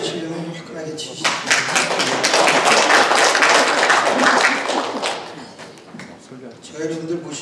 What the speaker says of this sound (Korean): 박수 치시려면 화끈하게 치시죠.